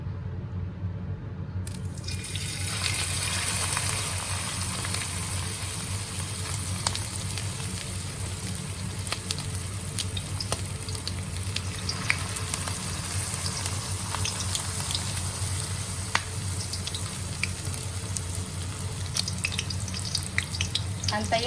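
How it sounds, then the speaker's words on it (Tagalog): Shrimp okoy fritters frying in hot oil, a continuous close crackling sizzle with scattered pops and spits that holds steady the whole time, no voices. "Ayan guys, magpiprito na tayo ng ating ukoy na hipon. Ayan, mainit na po ang ating mantika."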